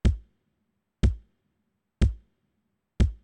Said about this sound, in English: So first we have here a kick, and it sounds like this.